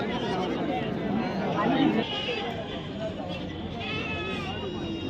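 Goats bleat at the Sempatti Friday goat market amid a crowd. Traders' voices and chatter are constant, with scattered bleats rising through the market noise.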